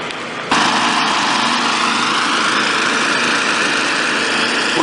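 A small, high-pitched engine-driven pump kicks in after a brief quieter moment and drones on steadily while filling an 8 ft AquaDam water barrier at a wastewater treatment plant, loud and continuous with no talking.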